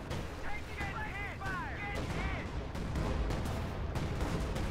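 Artillery barrage in Company of Heroes 2 on the Western Front, with repeated booming impacts and gunfire bursts beneath a steady battlefield din, mixed with whistling shells and a voice talking over it.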